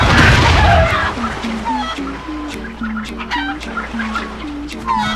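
Video game chickens in Crash Twinsanity cluck in a steady, repeated pattern of short calls, loud and close over a low background hum.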